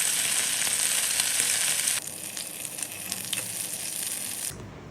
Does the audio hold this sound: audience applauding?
no